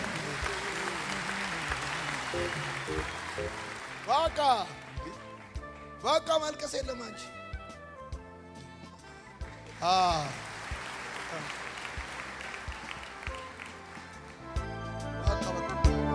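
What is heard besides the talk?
audience applauding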